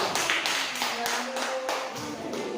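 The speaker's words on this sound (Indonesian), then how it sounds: "Sekarang tepuk tangan kelompoknya Chelsea Junior." Classroom applause for a student group, a steady patter of many hands clapping together for nearly three seconds, moderately loud and without talk.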